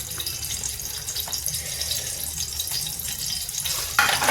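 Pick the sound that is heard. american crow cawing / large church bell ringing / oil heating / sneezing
oil heating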